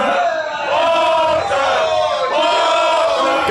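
Wrestling crowd roaring loud and continuous for Ludwig Kaiser's entrance at WWE Money in the Bank 2023, with sustained massed cheering, chanting and yells filling the arena throughout.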